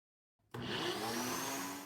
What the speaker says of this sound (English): I am going to scrape down all the sides, stir it up a little bit, blend it again